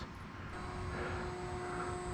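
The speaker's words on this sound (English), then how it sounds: "So this plane is just happily flying itself around the field" A Bixler RC plane flying autonomously on a PixHawk autopilot over a field, its electric motor giving a faint, steady whine overhead against a soft outdoor background.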